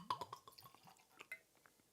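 Single malt whisky poured into a glass, a quiet run of close liquid drips and splashes with faint glassy clinks, irregular and fading toward the end.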